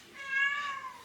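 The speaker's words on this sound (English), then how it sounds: "my cat's sitting in front of the door. She wants to go out, she's not allowed." A house cat meows at a closed door, wanting to be let out: one drawn-out, close, moderately loud meow with a clear harmonic tone that slides gently downward over about a second, heard alone.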